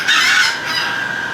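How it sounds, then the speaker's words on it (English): A rooster crows nearby, heard from a home kitchen during baking: a single sustained, strained crow with no talking. "those roosters are so annoying"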